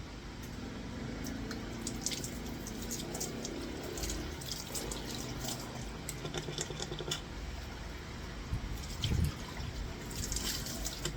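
Steady running water rinsing dirty PCP airgun parts, a continuous near splashing trickle with faint clinks of handled metal, and no voices.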